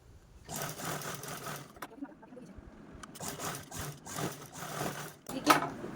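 A sewing machine stitches leftover blouse fabric onto a zip in several short whirring runs separated by brief pauses, close and moderately loud, with a faint voice at times.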